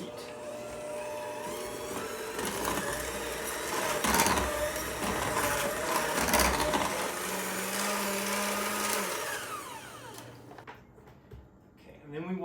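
A kitchen electric hand mixer beats a batch of cookie dough, a steady whirring drone running for about ten seconds before cutting off, with someone talking over it.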